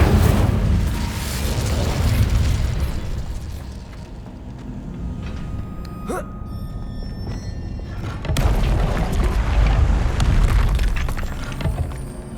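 The Incendio fire spell in a Hogwarts wizarding video game erupts in two loud, roaring, booming bursts separated by a quieter stretch with faint chimes.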